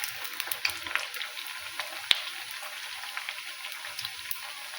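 Nippattu, crispy rice crackers, frying in hot oil in a home kitchen as they are turned, giving a steady fizzing sizzle with scattered crackles and one sharp tap of a utensil midway.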